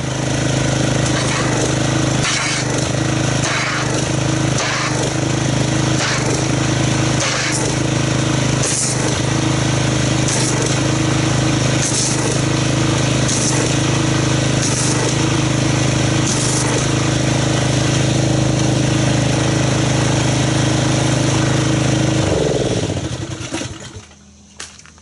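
A pressure washer runs steadily, its engine droning loud and close while spraying car wash foam, with a speaking voice faintly in the background, before the motor winds down and cuts off near the end.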